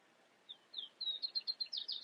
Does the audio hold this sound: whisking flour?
no